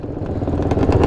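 A two-stroke quad engine runs steadily close by, with a buzzing, rattling tone that builds slightly in loudness.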